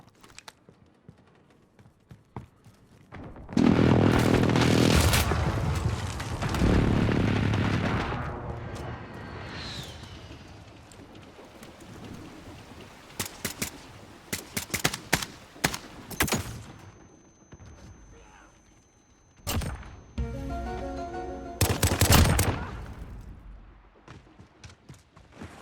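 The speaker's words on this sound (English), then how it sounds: "Enemy precision airstrike inbound." Explosions from an enemy precision airstrike and bursts of gunfire on the Sawmill map in Modern Warfare, a loud blast rumbling for several seconds, then scattered sharp shots and a second heavy burst near the end.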